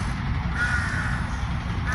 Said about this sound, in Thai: ตัวอีกามันเยอะ เต็มไปหมดเลย